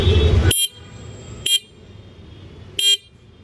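Horn of a 2026 Jawa Classic 350 alloy-wheel motorcycle, mounted below the headlight, sounds three short, loud honks spaced about a second apart, close up with no talking.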